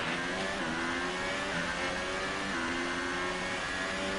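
An F1 car's engine accelerating out of the pits in F1 2018, a loud, continuous high-pitched whine that climbs through several quick gear shifts, close up and alone.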